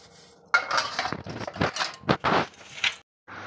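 Brass and copper kitchen utensils are scrubbed and handled, giving a string of close metallic scrapes, clinks and clatters in uneven bursts, with a short pause near the end before the rubbing resumes.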